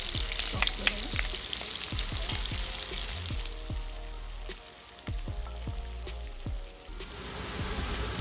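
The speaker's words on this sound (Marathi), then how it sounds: "आता आपण त्याच्यामध्ये तेल गरम झाल्यावर मिरची टाकूया।" Chillies sizzle and crackle in hot oil left over from frying prawns, a steady close frying hiss with sharp spattering pops and a few stirring scrapes, no talking.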